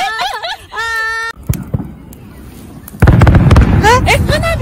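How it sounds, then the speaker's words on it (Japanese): Fireworks burst close by at an outdoor campsite in cold weather, a quick run of pops and crackles followed by a loud sustained crackling shower, with excited voices talking over it. "なんで花火してんの？"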